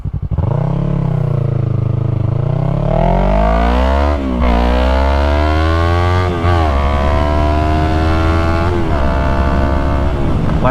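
A Yamaha MT-03 motorcycle with a new exhaust rides along backroads, loud and close, its engine pitch rising and falling through repeated throttle pulls and gear changes.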